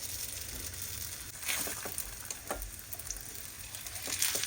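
Roti dough frying in hot oil in a pan, a faint soft sizzle with occasional light taps and crackles, no voices.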